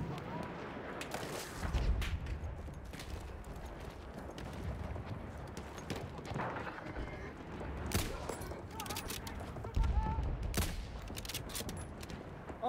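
Battlefield 1 battle with artillery and rifle fire crackling throughout, heavier bursts around two and ten seconds, dense chaotic combat noise with voices mixed in.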